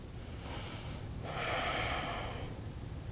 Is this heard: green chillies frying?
no